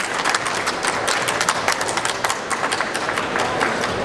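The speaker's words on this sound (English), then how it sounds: "If you have a little round of applause" A lively round of applause from an outdoor festival audience at a food truck stage, many hands clapping in a fast, slightly uneven patter that holds steady throughout, fairly close and loud.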